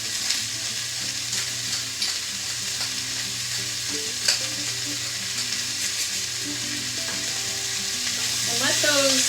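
Vegetables for a spring chicken, veggie and white bean soup sauté in a pan while being stirred, a steady sizzle and hiss with scraping stir strokes throughout, fairly close and unbroken, swelling slightly louder near the end.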